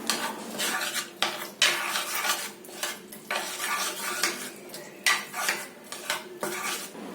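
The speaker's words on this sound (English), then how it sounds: "And lastly add chopped onion and mix it again." Kimchi paste of garlic and ginger is mixed with chopped onion in a bowl, giving repeated close clinks and scrapes of a utensil against the dish in uneven bursts with short pauses, and no one talking.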